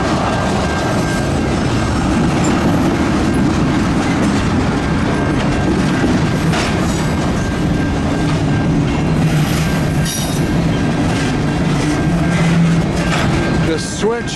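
A CN local freight train hauling tank cars rolls past up close, a loud, unbroken rumble with clickety-clack from the wheels and a thin, sustained squeal running through it.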